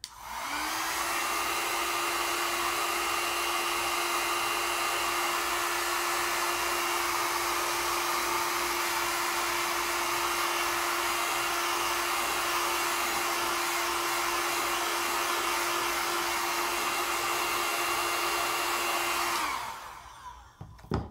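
A hair dryer runs steadily at close range for about twenty seconds, blowing over metallic acrylic paint on a black canvas, a constant whooshing whine with a low hum that cuts off abruptly at the end.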